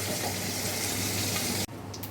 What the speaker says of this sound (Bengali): আমার মাছটা ভাজা হচ্ছে